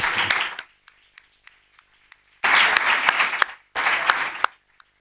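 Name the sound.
audience applause at a conference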